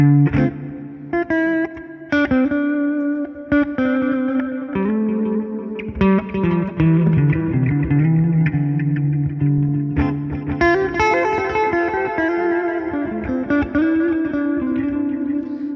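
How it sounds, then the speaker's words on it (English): An electric guitar played through a Line 6 Helix Stadium XL with reverb and delay in parallel plays chords and single notes soaked in spacious reverb, with repeating delay echoes trailing each phrase and blurring into a wash. "Reverb and delay in parallel."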